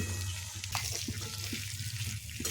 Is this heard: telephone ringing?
no